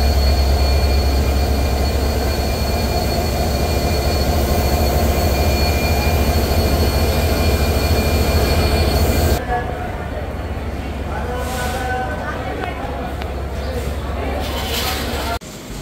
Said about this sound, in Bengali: আজকের ট্রেনটির পরিচালনার দায়িত্বে রয়েছে American giant locomotive BEP 3200 horse পাওয়ারের ইঞ্জিন